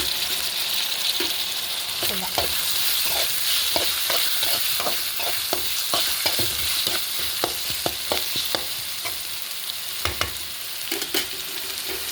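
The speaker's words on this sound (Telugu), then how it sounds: "దీంట్లో టమాటా ముక్కలు కూడా వేసేసుకుందాం" Tomato pieces added to pre-cooked mutton frying in a pan produce a steady, close sizzle, punctuated by a regular run of sharp scraping and clinking taps as the mixture is stirred.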